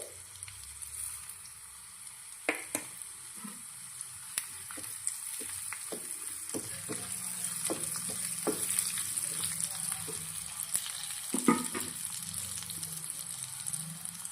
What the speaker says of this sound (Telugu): ఒక స్పూన్ జీలకర్ర వేసుకుంటున్నాను పప్పులోకి